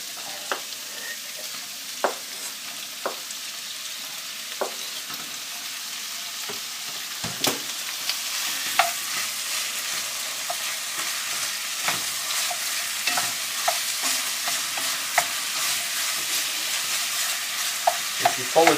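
Meat browns in a pan with onions and celery for a hotpot, making a loud, steady sizzle with repeated scraping and clacking from stirring, close and without talk.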